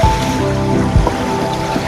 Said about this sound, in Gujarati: આ તમે જોઈ શકો છો ડેમની કિનારે કેટલી ખતરનાક ઝાલક આવે છે.